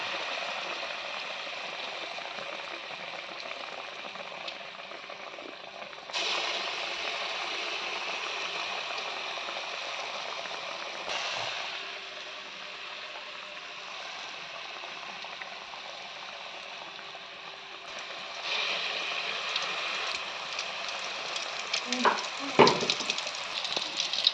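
Coconut poli frying in hot oil, a steady close sizzle and bubbling that surges louder as more batter-dipped pieces go in, with brief clatters of a utensil near the end.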